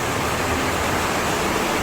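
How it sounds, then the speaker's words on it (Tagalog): Water pours heavily through a leaking ceiling into a room during a typhoon, making a dense, constant, loud rushing hiss like a downpour with no breaks. "Tumutulo rin dito. Ayan, ang lakas ng tulo."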